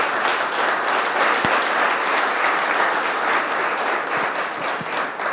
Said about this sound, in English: So let's give Mayor Adlia another round of applause.